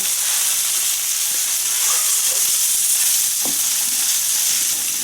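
Thai crispy oyster omelette batter frying in hot oil, a steady loud hiss and sizzle with a few faint scraping taps from a spatula.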